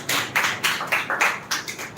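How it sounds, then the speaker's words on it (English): A small group claps briefly after a classroom speech, about seven quick rhythmic bursts of hand claps, fairly close and on their own without talk. "Clap for it."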